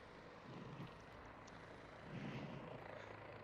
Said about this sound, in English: So this is just another quick helicopter ride where Brian's back